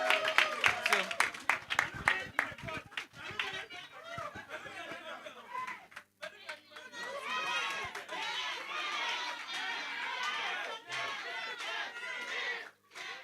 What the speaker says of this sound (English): let's give a bigger round of applause for our judges